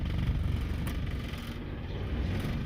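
The D16-swapped 1991 Honda Civic EF idles roughly on a cold start, a low, uneven engine rumble heard close and continuous.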